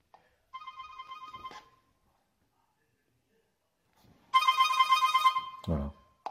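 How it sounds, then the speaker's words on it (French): Ringtone of an M-HORSE Pure 1 smartphone, two bright electronic melodic bursts separated by a pause, the second louder, with a thump and faint voice at the very end. "On va écouter le son de la sonnerie."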